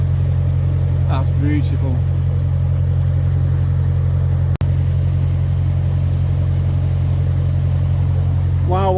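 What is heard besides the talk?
classic car with BMC engine driving after gearbox change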